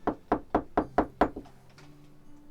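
Six quick knocks on a door in a steady, evenly spaced rhythm, loud and close, with no talk over them and a brief quiet tail after the last rap.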